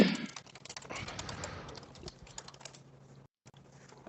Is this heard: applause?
no